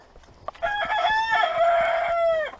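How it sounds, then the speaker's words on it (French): A Brakel rooster gives one loud, close crow lasting about two seconds, rising then holding a strained, harmonic-rich call before cutting off, after a faint cluck. "Mon coq braquel."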